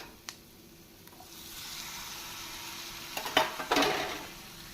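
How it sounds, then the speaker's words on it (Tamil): Chopped tomatoes go into a pan of sautéed capsicum while cooking pav bhaji masala, giving a soft steady sizzle and a few scraping stirs of a spoon against the pan, no speech. "குடைமிளகாய் நன்றாக வதங்கியவுடன் இதனுடன் நாம் பொடியாக நறுக்கிய தக்காளி பழத்தை சேர்த்து"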